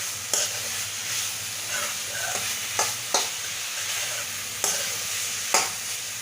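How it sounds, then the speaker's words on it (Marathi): Spices frying in a pan while being stirred, a soft continuous sizzle broken by several distinct scraping and clinking strokes of a spoon at irregular intervals. "मसाले घातल्यावर थोडं मिक्स करून घ्यायचं आणि झाकून ठेवायचं"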